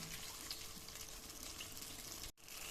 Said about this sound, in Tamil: இப்போ இதில் கொஞ்சம் தண்ணி கலந்து ஊற்றிக்கலாம்